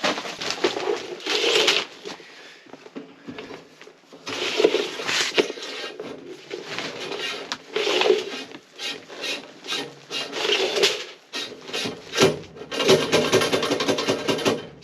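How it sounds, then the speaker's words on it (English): A fiberglass fish tape is pushed through a crawl space, giving bursts of scraping and rasping as it drags over surfaces, close and uneven in rhythm with short pauses between pushes, no speech. "We'll just push the fish tape in. It's the fiberglass one."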